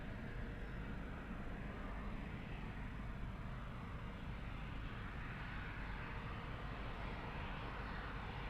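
Bombardier Challenger 605 business jet arriving at Lisbon Airport, a steady, continuous engine roar heard from a distance, even in level throughout with no talking.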